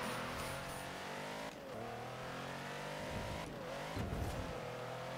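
A hypercar engine roars continuously in a Forza racing game, revving and shifting with steady, loud engine tone and brief dips as gears change, no talk over it.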